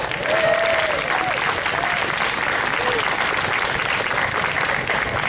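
A seated audience at a community day awards ceremony gives steady, sustained applause, a dense wash of many hands clapping at a constant level throughout, with faint voices under it.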